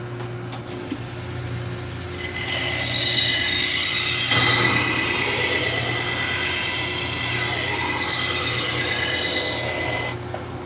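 Knife sharpening machine at a farmer's market, a steady low hum joined by a loud, sustained grinding rasp on a blade that runs for about eight seconds before stopping.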